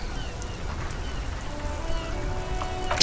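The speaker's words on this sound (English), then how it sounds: "Droplets of rain fall on the white on blue police livery of the motor carriage." Steady rain patters on the white-and-blue police livery of a motor carriage in the video game Disco Elysium, a continuous soft hiss of droplets with a faint tonal hum beneath, no talking.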